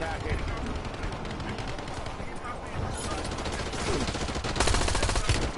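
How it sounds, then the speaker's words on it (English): Rapid automatic gunfire and bursts of shots in the Call of Duty: Warzone Haven's Hollow map, dense and continuous, getting heavier toward the end, with players chatting over it. "who is shooting?"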